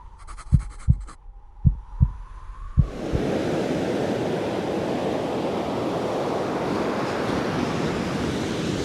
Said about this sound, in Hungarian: Igen, ez az óceán zaja.